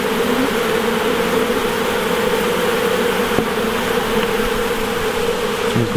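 Honey bees swarm around an open hive during an inspection, making a dense, continuous buzz that holds close and steady from start to finish, with no voices.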